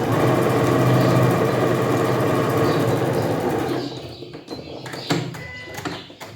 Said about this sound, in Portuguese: passa uma costura de um pé de máquina, com uma costura bem fechadinha